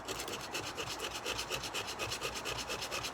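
Sandpaper rubbed by hand across an aluminum intake cover plate, a quiet rapid back-and-forth scratching in an even rhythm, close up and alone.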